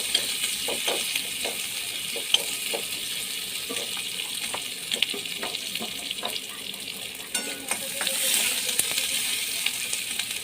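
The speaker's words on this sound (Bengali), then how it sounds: "তারপরে আমি পেঁয়াজ কুচিগুলো দিয়ে দিলাম। একটু নেড়ে নিচ্ছি।" Chopped onions sizzle steadily in a hot pan, with a bright continuous frying hiss broken by scattered clicks and scrapes as they are stirred.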